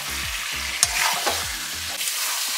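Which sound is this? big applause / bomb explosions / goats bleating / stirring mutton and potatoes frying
stirring mutton and potatoes frying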